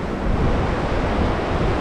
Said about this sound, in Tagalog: malakas pa rin yung hangin. Saka yung alon.